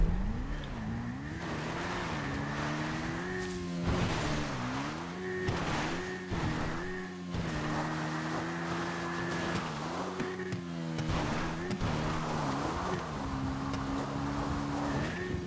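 A motorbike engine in GTA 5 Online revs and drones continuously, its pitch rising and falling with throttle changes, loud and close with a few gear-shift dips.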